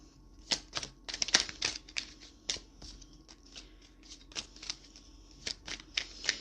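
Tarot cards pulled and shuffled from a deck, a quick run of crisp papery flicks and snaps in an irregular rhythm, close and clear with no talk.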